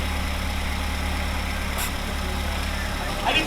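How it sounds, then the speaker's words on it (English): A Mazdaspeed 3 idling in first gear with the wheels spinning, a steady low engine hum held evenly throughout, with a brief faint click near the end. "Okay, now just let it idle, so I can see the wheels spinning."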